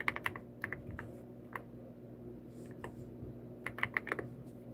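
Keys tapped on a computer keyboard in short bursts of soft clicks, moderately close, over a low steady background hum with quiet gaps between words.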